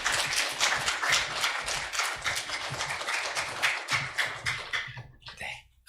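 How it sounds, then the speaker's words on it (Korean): A church congregation claps in welcome during a Sunday service, loud, close, brisk clapping from many hands in a steady burst that tapers off and stops near the end. "크게 한번 박수하면서 환영할까요?"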